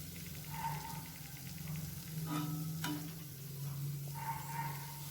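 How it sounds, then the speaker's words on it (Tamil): Wheat flour dough balls deep-frying in hot oil over a medium flame, a steady close sizzle and bubbling with brief scraping stirs of a utensil partway through, no voices. "நம்ம உருட்டி வச்சுருக்க எல்லா மாவையும் மீடியம் ஃப்ளேம்லேயே பொரித்து எடுத்துக்கலாம்"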